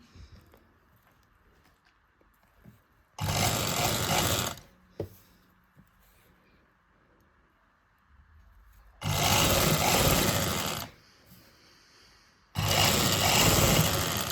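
A sewing machine runs stitches for a loose basting seam on silky fabric while attaching lace to a lined sleeve, in three loud steady bursts of a few seconds each, separated by quiet pauses with a faint background hum.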